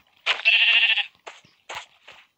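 A Minecraft goat bleats in a game, one long wavering bleat followed by two or three shorter, fainter bleats, heard alone and close with no talk.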